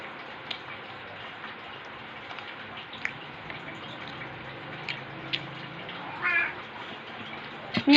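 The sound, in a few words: cat meowing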